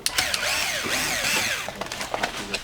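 A power screwdriver whirs in short rising and falling bursts, removing four screws from a small PC, with clicks and rattles of screws between runs, close by.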